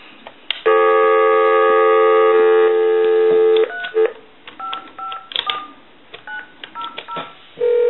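A telephone dials a time-and-temperature number: a long steady tone, then a quick series of separate touch-tone beeps of varying pitch, clear and close, with no voices.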